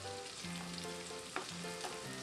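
Onion and scallion whites fry in a pan for fried rice, a steady close sizzle throughout with a faint stir or scrape partway through and no talking.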